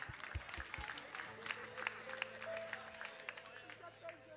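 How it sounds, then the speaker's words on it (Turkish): A television studio audience on the Ceylan Show applauds, a dense wash of clapping that stays steady throughout while sustained musical tones come in under it after the first second. "Hadi bakalım alkışlar."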